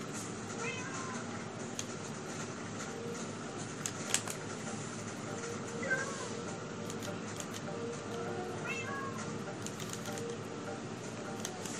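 Faint cat meows sound now and then in the Minecraft video game over a steady background hiss, with a few brief clicks and no talk.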